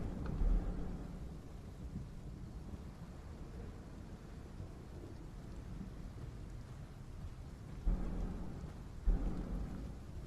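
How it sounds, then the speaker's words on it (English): Thunder and storm ambience in the video game Path of Titans, a low continuous rumble under rain with two heavier booming rolls near the end, fairly quiet and with no voices. "The audio of the lightning is fucking with me pretty bad."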